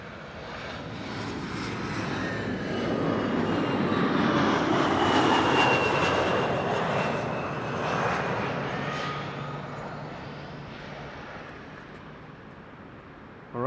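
A KLM jet airliner arrives at Amsterdam Schiphol Airport, its engine roar swelling from a distant rumble to a loud broad pass and then slowly fading, with no talk over it.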